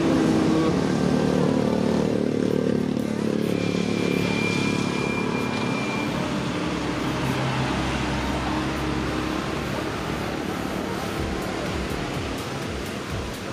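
A Yamaha Aerox V2 scooter fitted with an RCB rear shock runs with a steady, rough, broadband engine roar that holds at an even level for the whole stretch.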